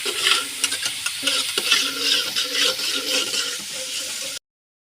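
Egg sizzling and frying in a hot pan for a Pakistani-style fried egg, a steady loud crackle with stirring scrapes throughout, ending abruptly in silence.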